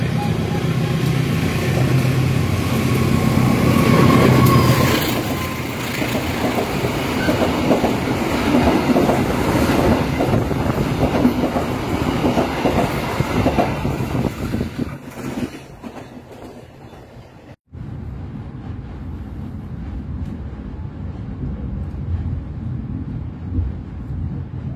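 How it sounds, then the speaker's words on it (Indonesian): A parcel train rolls past nearby with rhythmic clickety-clack of wheels, loud at first then fading away, leaving a quieter rumble. "Apakah bakal silang sama kereta parcel?"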